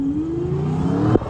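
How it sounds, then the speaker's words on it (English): A 725 hp 2024 Ford F-150 truck engine revs up with a rising supercharger whine climbing steadily for about a second before cutting off abruptly, heard close and fairly loud. "you get that hint of a supercharger whine"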